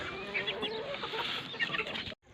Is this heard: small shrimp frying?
no